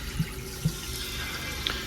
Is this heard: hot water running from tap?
yes